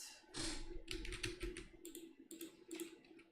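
Rapid, irregular clicking of keys on a computer keyboard, close and fairly loud, in bursts across a few seconds with a steady low hum beneath.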